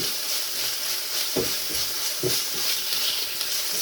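Chicken masala lightly roasts (bhuna) in a kadhai with a steady bright sizzle and frying hiss, broken by a few soft scraping stirs, with no talk.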